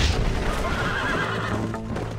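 Horses neighing in the western game Red Dead Redemption, a loud close whinny rising and then trailing off, with hoof clatter and faint voices underneath.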